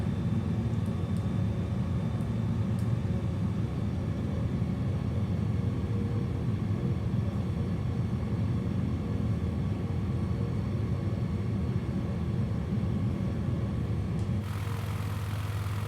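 A light aircraft engine drones steadily on landing approach in Microsoft Flight Simulator 2020, a broad, constant rumble with wind noise that drops abruptly near the end.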